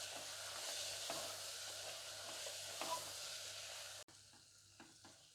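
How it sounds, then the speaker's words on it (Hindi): Avarekalu (hyacinth double beans) dropped into a hot pan give a steady soft sizzle and fry hiss with light stirring scrapes, which cuts off suddenly near the end into quieter clinks. "डबल बीन्स के दाने ऐड कर रही हूँ"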